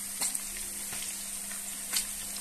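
Pork neck kebab meat frying in a pan gives a steady, close sizzle with a few sharp pops and clicks.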